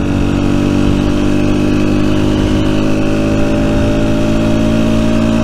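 A Rieju Century 125 motorcycle engine runs steadily and close, a continuous mid-pitched drone with a stable harmonic hum and no voices over it.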